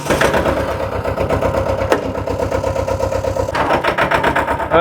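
A farm vehicle's engine runs close by in Tirunelveli district, a loud, steady rhythmic diesel-like chugging with regular pulses and a couple of brief clunks, no talking.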